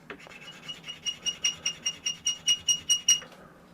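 A small piece of sterling silver rubbed on a mild abrasive testing stone, giving a run of about a dozen rhythmic scraping strokes that grow louder and rasp up high, close and alone.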